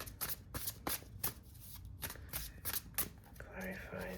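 Tarot cards being shuffled by hand in a quick run of crisp riffling flutters, fairly close, ending as a faint voice begins to speak.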